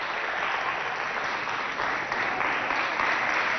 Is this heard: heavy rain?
no